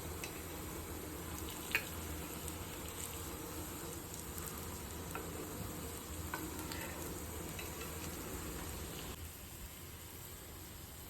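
Upvas tikki frying in a pan, a steady close sizzle of hot oil with a few soft scraping and stirring touches, and no talk over it.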